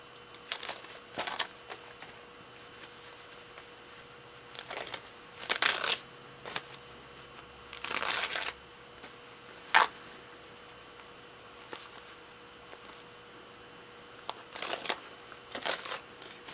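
Paper foundation being torn away from a sewn quilt block along small stitches, heard as several short, bright ripping bursts spaced apart with quiet gaps between them and no talking.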